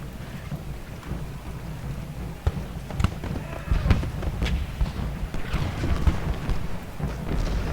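Artillery shell shots firing in the Civil War strategy game Ultimate General: Gettysburg, a run of dull booms and thuds scattered over a rumbling, rain-like battlefield background, fairly continuous with a few sharper hits.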